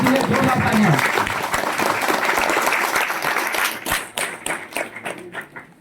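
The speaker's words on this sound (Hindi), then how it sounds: "इससे दोनों टीमों के लिए जोरदार तालियां।" An audience at a police anti-drug and road safety campaign event applauds both teams, with loud, dense clapping that thins into scattered individual claps toward the end. Voices are audible through part of the applause.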